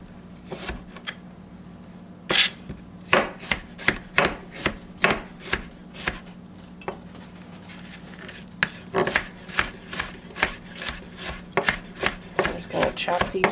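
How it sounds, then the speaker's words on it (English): A knife chops green chili sauce ingredients on a board, a long run of crisp, regular thuds close by, with a short pause midway before the rapid chopping resumes. "Chop these up."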